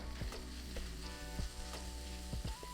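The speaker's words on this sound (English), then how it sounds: "we're just going to cook our beef until it is fully cooked through" Thin shaved beef sizzling in a hot pan, a soft steady frying hiss with repeated scraping stirs as the meat is broken up, no voices.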